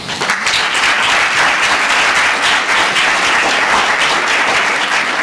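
Loud, dense applause fills the hall at a student government candidate debate, many hands clapping together in a continuous roar with no clear pauses.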